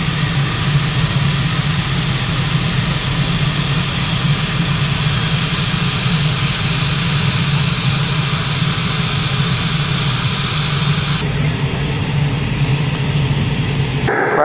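A small passenger airplane's engine running loud and close at a remote airstrip in Papua New Guinea, a continuous heavy roar with a high whine on top that steadies and changes tone near the end.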